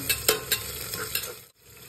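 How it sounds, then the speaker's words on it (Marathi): Onion sautéing in a pan for a dish with tomato, potato and peanuts, a close, steady sizzle broken by several quick stirring scrapes, no talking. "आणि कांदा छान आता परतून घ्यायचा"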